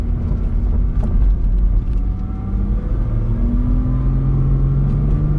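A 2005 Porsche 987 Boxster S with Tiptronic S automatic transmission pulls away smoothly. Heard from the cabin, a steady low engine rumble climbs gently in pitch with no talking.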